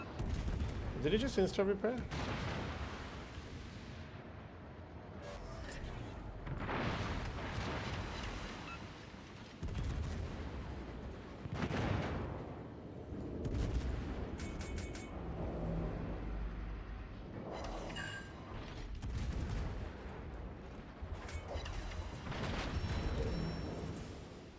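Naval artillery fire in World of Warships: repeated heavy booming salvos and rumbling blasts spread across the stretch, mixed with game sounds while someone talks over the battle.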